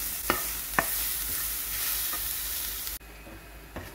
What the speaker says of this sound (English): As the green chilies are roasted